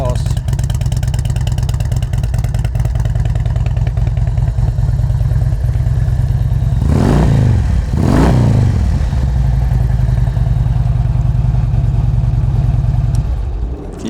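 A Harley Davidson Street Glide FLHX with a Reinhardt exhaust and 28,225 miles idles loudly and close, a steady rumble broken by two quick throttle blips midway before it settles back to idle.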